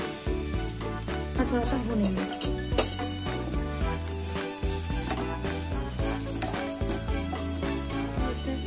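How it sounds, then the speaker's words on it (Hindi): Potatoes fry and sizzle in a pan on a medium gas flame, a steady hiss under louder background music, with a brief spoken phrase. "थोड़ा सा आलू के साथ इसको भूनेंगे।"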